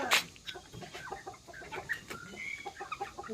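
Domestic chickens clucking and chattering close by in a series of short, irregular calls, with one sharper squawk at the start and no talking.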